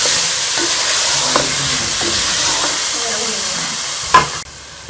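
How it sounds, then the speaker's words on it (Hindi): Petha halwa with raisins and chopped coconut sizzles in a pan under a loud, broad frying hiss, with a few soft stirring scrapes, before the sound drops away abruptly near the end. "अब हम इसमें ये किशमिश डाल देंगे और ये कटा हुआ नारियल डाल देंगे"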